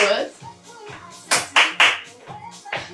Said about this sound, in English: Let's add a clap